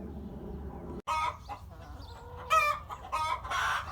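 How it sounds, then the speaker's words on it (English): Hens cluck and squawk in a noisy, irregular series of bursts, fairly close, over a low steady background hum. "All that racket is from hens."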